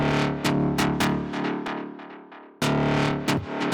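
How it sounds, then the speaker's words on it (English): A bright wavetable synth lead with heavy saturation and filter automation in a techno remix, stabbing in rapid rhythmic bursts that decay between hits, with a brief gap before the pattern resumes, loud and alone. "It's actually just a wavetable."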